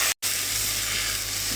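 Rice sizzles and crackles steadily in a pan of hot oil, a loud continuous frying hiss after a brief moment of silence at the start.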